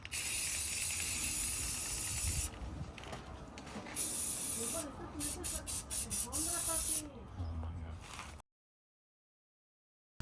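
Aerosol spray paint hisses in several bursts as a second coat goes onto the brake calipers of a V6 Camaro, the longer sprays broken by short rapid puffs, close and fairly loud before silence.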